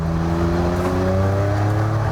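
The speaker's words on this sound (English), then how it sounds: "they gave it a Jaguar V6 racing engine with twin turbos" A car fitted with a twin-turbo Jaguar V6 racing engine, 542 horsepower and rear-wheel drive, drones steadily with a loud continuous engine tone that rises slightly in pitch, heard alone without talk.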